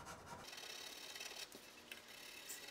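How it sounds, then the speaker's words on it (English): Sandpaper rubbing over shellac on a wooden guitar fretboard, feathering the finish into bare wood; a steady, close, continuous rasping scrape with no talk. "sanding that down into a kind of a bevel that blends the shellac into the bare wood of the fretboard."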